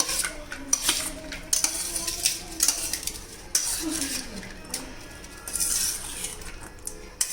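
Spoon scraping and clinking against a bowl while stirring a masala kala chana chaat mixture of black chickpeas and spices, close and continuous with irregular scrapes and clinks.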